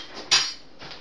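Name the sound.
spoon being picked up in the kitchen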